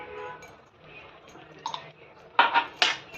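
Mango rava sheera stirred in a pan, a spoon scraping and clinking against the metal in a few soft scrapes followed by louder knocks near the end, close and fairly quiet with no talk.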